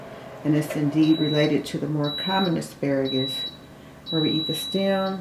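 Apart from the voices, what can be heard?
beeping sound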